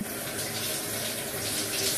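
Tap water runs steadily while hair is washed, a constant close hiss and splash with no breaks or voices.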